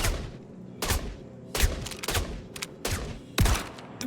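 Gunfire in the video game Star Citizen, loud bursts of rapid shots repeating in clusters with brief gaps, some sharp single cracks among them.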